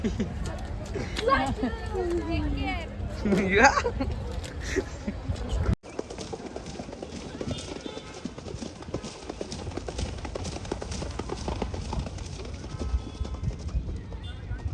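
A trained horse's hooves clip-clop steadily on the ground during a family outing at Mahabaleshwar. The hoofbeats are close and continuous, with people talking loudly over them in the first half.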